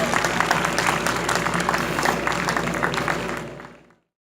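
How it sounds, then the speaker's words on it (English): Audience applause at a self-defense school demonstration in a museum, a dense steady patter of clapping from a crowd that holds for several seconds and then fades out. "If you guys could just give a man a round of applause real quick."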